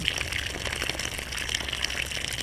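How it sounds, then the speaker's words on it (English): Water spraying and gushing while a home garden is watered, a continuous hissing flow at steady moderate loudness with no talking. "we are watering our garden"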